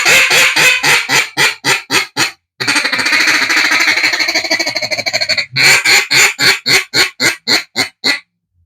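Loud, close duck call blown in rhythmic quacking sequences: a descending series of quacks, a rapid feeding chatter, then another series of spaced quacks.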